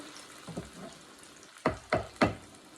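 Onions sautéing in a pan with a soft, steady frying hiss, broken by a few quick stirring scrapes, the last three close together and louder.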